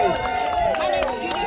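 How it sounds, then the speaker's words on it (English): Crowd at an outdoor May Day rally in Beaufort, North Carolina claps and cheers for Kelly Keating, a steady wash of applause and voices lasting the whole moment, with a voice singing or calling out over the top. "Big round of applause for Kelly being out here."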